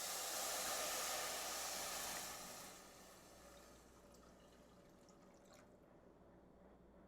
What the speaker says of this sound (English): we'll go ahead and add 2½ cups of water